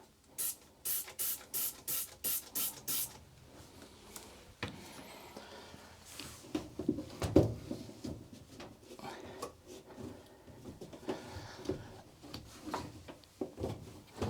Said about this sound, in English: So I'm just going to use the same spray to spray on the inside there.